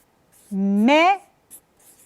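A pen or marker squeaks against a writing surface in one sustained stroke of about half a second that rises in pitch partway through. It is loud and close, followed by a couple of faint scratchy ticks.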